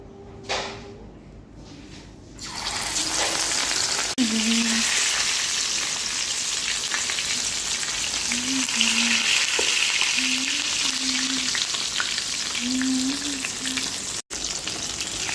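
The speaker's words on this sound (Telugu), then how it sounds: "దీన్ని ఇప్పుడు మనం డీప్ ఫ్రై చేసుకుందాం." Marinated fish deep frying in hot oil, a loud steady sizzle and crackle that starts after a brief quiet moment and runs on continuously, with occasional soft clinks and stirring.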